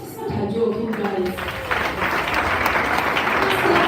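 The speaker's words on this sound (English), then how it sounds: "Let's give them a round of applause." A round of applause breaks out at a live wellness business event, starting with a few claps and swelling into steady crowd clapping, with voices underneath.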